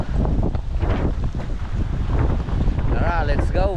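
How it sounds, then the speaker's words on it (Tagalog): Strong wind gusts buffet the microphone on the shore of Taal Lake, a loud steady roar with water movement beneath and faint voices in the background. "bigla namang lumakas yung hangin"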